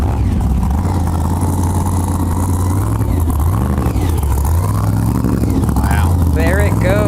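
A loud, rumbling monster truck engine revs and roars continuously, pitch rising and falling, with voices talking over it, before a Monster Jam event in Philadelphia.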